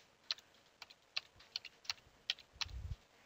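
Keys tapped on a computer keyboard while entering gateway and DNS settings, a sparse run of about eight crisp, separate keystrokes with uneven pauses, close and fairly quiet, ending with a softer low thump, no voices.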